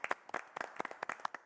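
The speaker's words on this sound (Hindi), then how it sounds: "ये सोच पे हम ताली मारेंगे।" A few people clap their hands in short, uneven bursts of sharp claps, fairly close and unaccompanied by talk.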